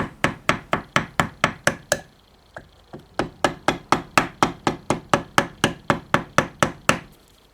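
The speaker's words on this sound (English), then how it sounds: "I'm going to use a ball peen hammer." A ball peen hammer taps a paper gasket on a Mastercraft (MTD) snow blower in a fast, steady run of sharp metallic knocks, pauses briefly for a few lighter taps, then resumes the even rhythm, close up.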